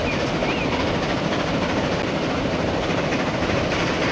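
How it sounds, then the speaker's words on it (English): A passenger train runs in the railway simulation game Transport Fever 2, a steady dense rumble with faint wheel clatter, continuous and fairly loud throughout, with no voices. "That's the other passenger train."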